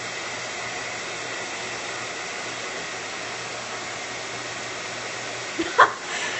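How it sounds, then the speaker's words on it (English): A hair dryer runs steadily with a constant broadband whoosh and low hum, close and continuous, with a brief clunk near the end. "This is my hair dryer that I use every day."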